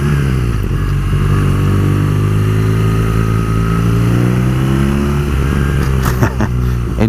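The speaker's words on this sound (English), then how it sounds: "Engine note is just rattling off these walls. It sounds fantastic." 2018 BMW R nineT Pure motorcycle engine running loud and close, its note rumbling and echoing off surrounding walls in a narrow street, with a short burst of revs near the end.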